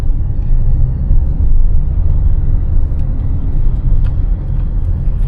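A manual car accelerating through traffic: a steady, close engine rumble that swells slightly as it gathers speed, with road noise underneath and no talk.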